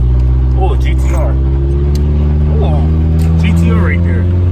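A right-hand-drive Nissan GT-R drives past, its engine a loud, steady low drone that fills the clip while voices talk over it.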